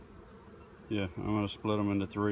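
Honeybees in a hive hum with a steady low buzz in the background while someone speaks over it up close.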